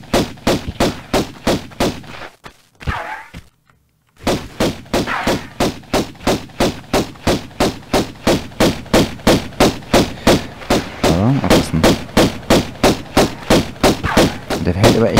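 Rapid automatic gunfire from the video game Tomb Raider, loud and close in steady repeating bursts, briefly broken by a short pause before the shooting resumes.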